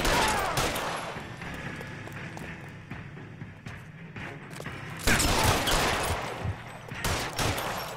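Bursts of gunfire ring out in the 1940s Los Angeles crime game LA Noire, with a volley of sharp shots at the start and another cluster after a pause, loud and close.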